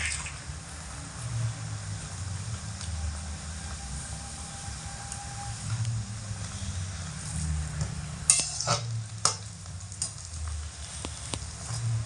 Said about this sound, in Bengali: মিডিয়াম আঁচে রেখে 5 থেকে 6 মিনিট সময় ধরে ভেজে নিয়েছি ভালো করে